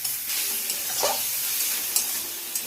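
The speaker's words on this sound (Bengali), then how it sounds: "অল্প একটু জল দিয়ে খুব ভালো করে মশলাটাকে একটু কষিয়ে নিতে হবে।" Spice paste for a Bengali fish curry sizzles steadily in a pan with a splash of water, a continuous soft frying hiss with a few light stirring scrapes, close and moderately loud, no voices.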